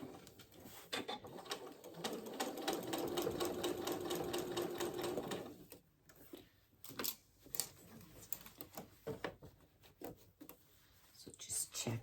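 A sewing machine stitches a ruffle onto a shirt, a fast steady mechanical whir for several seconds, then stops; someone talks quietly after it alongside light handling clicks.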